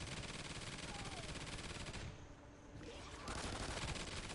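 Rapid automatic turret gunfire in the video game Extinction, a dense, continuous fusillade that briefly drops in level mid-clip before surging back loud.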